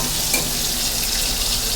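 Chopped onions go into hot oil in a pan for a spicy boal fish egg curry, giving a loud, even, hissing sizzle that holds steady throughout with no talking.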